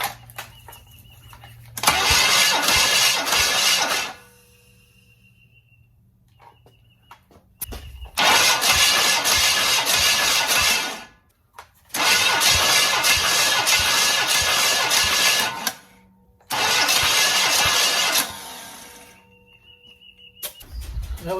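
A Chevy 454 V8 engine fires up repeatedly: four long, loud bursts of roaring running, each cutting off into near silence before the next start, heard close with no talk.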